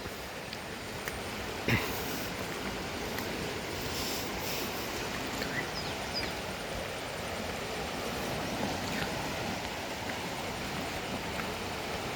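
A rising river flows in steady broadband rushing water noise, constant and fairly loud throughout, with no talk over it.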